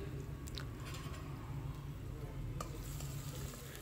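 Onion frying with a few mustard seeds in a pan for Marathi-style palak paneer, a steady close sizzle with faint stirring scrapes and no talk.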